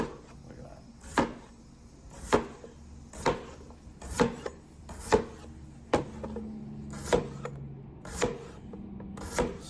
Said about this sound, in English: Take my knife, start cutting.